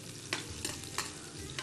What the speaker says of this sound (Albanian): skuqjen e patateve